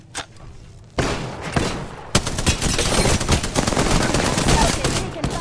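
Incoming gunfire in Apex Legends: a few scattered shots early, then sharp impacts and sustained rapid bursts building into continuous loud fire close by.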